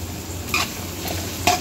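Carrots and coriander sizzle softly in a hot tempering pan while being stir-fried for spicy vermicelli, with two brief stirring scrapes standing out over a low steady fry; no voices.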